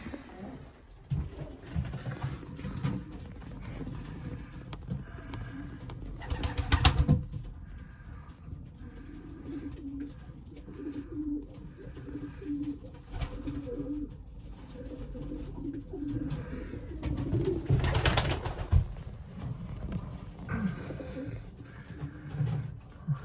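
Young pigeons or doves sit in a nest, giving soft low coos and rustling movements, quiet and close, with a couple of louder shuffling bursts along the way.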